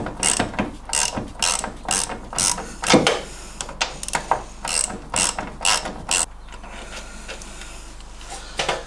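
Close, loud bursts of rapid ratchet clicking come from a wrench loosening nuts on MGB suspension, each burst a short run of pawl clicks separated by brief pauses, with quieter clicks near the end.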